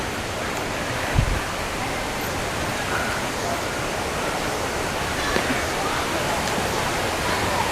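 Water pours steadily into a pool at Phlio Waterfall, a broad, constant rushing wash that fills the whole scene, with an occasional faint knock above it.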